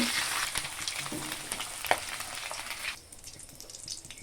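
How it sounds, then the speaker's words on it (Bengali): Eggs fry in hot oil in a pan, a bright crackling sizzle with sharp spits and pops that drops to a quieter hiss after about three seconds. "তেলগুলো গরম হয়ে গেছে, ডিমগুলো ভেজে নেব।"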